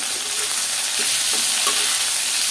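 Garlic, onion, green chili and ginger fry loudly in a pan, a dense, constant hiss with faint stirring knocks, close and uninterrupted, with no speech.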